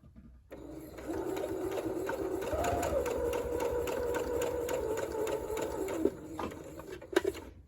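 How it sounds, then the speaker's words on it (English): A sewing machine runs a long basting stitch down a button-down shirt's neckband seam, a steady close mechanical whir of rapid needle ticks lasting several seconds before stopping, followed by a couple of sharp clicks. "you're going to do a basting stitch from top to bottom"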